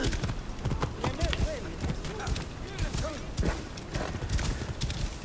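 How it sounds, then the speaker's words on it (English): Horse hooves in Assassin's Creed Origins clip-clop in a steady galloping rhythm, with occasional whinnies over a busy game soundscape. "I need to hop on my horse, because I don't feel like walking there."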